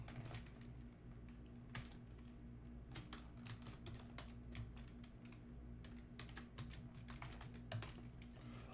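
Rapid clicking keystrokes on a computer keyboard, close and fairly quiet, in irregular bursts with brief pauses over a steady low electrical hum.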